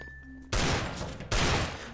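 Two loud, dense bursts of rapid gunfire from the game CS:GO, each fired through a wall and separated by a brief gap, sound close and harsh over a quiet background.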